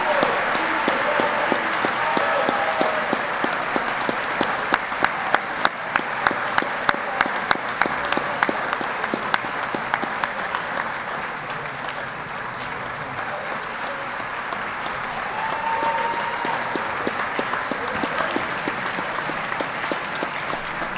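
Sustained applause from an audience at a 2019 high school senior awards ceremony, honoring a football scholarship recipient; steady dense clapping over about twenty seconds with a few sharper individual claps standing out near the start, and faint voices underneath.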